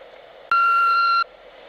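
A single answering machine beep follows the outgoing greeting, one steady high electronic tone lasting under a second, loud and clear over a faint background hiss.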